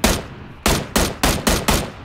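Gunfire in a bolt-action rifle shooter video game: a loud opening shot followed by five sharp, evenly spaced reports in quick succession, each with a brief decaying tail.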